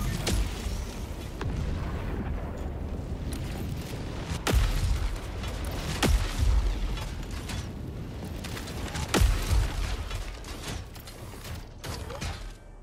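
A support weapon drop pod slams down in a video game, a series of sharp booming impacts and mechanical clanks over a steady rumbling bed of game ambience, with hits near 4.5, 6, and 9 seconds.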